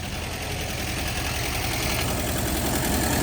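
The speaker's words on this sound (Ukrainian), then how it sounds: "О, моторчик шепче." A small motor in a homemade car runs steadily, giving a constant close hum with a faint rattling knock and no talk over it.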